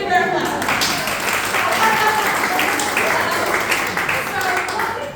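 An audience at a theatre showcase gives warm applause, a continuous dense patter of many hands clapping at moderate volume, with some voices mixed in.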